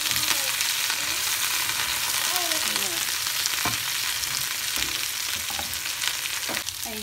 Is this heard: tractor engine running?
no